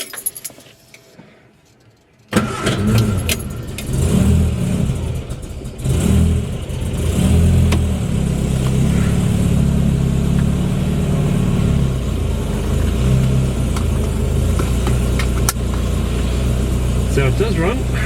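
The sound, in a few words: supercharged Morris Minor car driving on test drive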